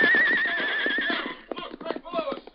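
Silver, the Lone Ranger's great white stallion, gives a loud, shrill whinny in a radio drama, followed by hoofbeats clattering and shuffling close by.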